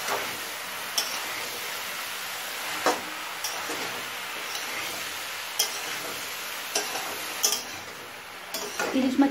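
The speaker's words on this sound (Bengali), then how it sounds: "শাপলাটা সব কিছুর সাথে ভালোভাবে মিশিয়ে নিলাম।" Water lily stems are stirred together with chicken in a pan, producing a low steady frying hiss broken by occasional sharp clicks and taps of the spoon against the pan, close up with no talking.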